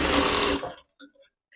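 A sewing machine stitches a blouse belt strip in a brief close run that stops abruptly, followed by a couple of small clicks.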